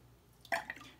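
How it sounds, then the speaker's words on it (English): A trumpet valve is lowered into water, making a short, soft splash and a small drip close by, faint against a quiet background. "I will put it in the water"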